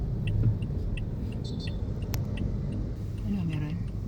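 A motorcycle rumbles along a road, its low engine drone steady and fairly close, with faint voices in the background.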